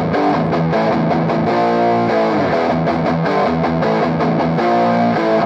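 Distorted electric guitar with reverb, recorded in BandLab studio through a simulated Marshall 4x12 cabinet for a classic tone, playing a continuous loud riff with sustained chords throughout.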